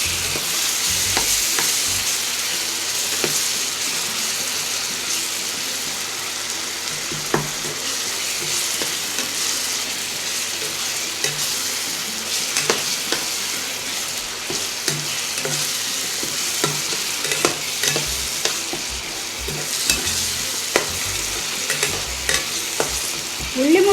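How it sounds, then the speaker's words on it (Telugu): A thick masala paste for fish kofta curry fries in a pan under a long, steady sizzle, broken by frequent scraping stirs and occasional spatters, heard up close with no talking. "ముద్ద ఎప్పుడైనా మనం బాగా ఫ్రై చేసుకోవాలండి."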